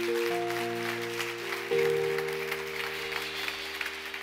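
A church congregation claps steadily during a sermon while sustained keyboard chords hold underneath, the applause continuous and moderately loud.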